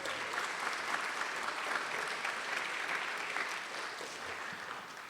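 Steady applause from a crowd honoring 2023 National Merit Scholars at a school gathering, dense continuous clapping that tapers slightly near the end.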